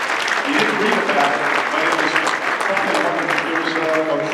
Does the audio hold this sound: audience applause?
yes